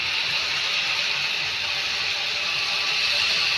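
Palm fruit fritters (taler fuluri) frying in hot oil, giving a steady, dense bubbling hiss that holds even and continuous throughout with no talking.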